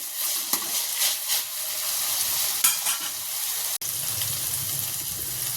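Vegetable pieces being stirred with ginger-garlic paste in a pan, giving a steady sizzle with scraping spoon strokes, a sharp clink near the end, then a lower frying rumble.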